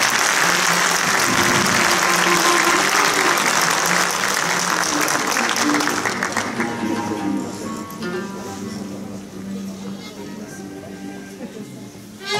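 Loud audience applause at a special concert, dense and sustained at first, then thinning and fading toward the end, with a few voices audible beneath it.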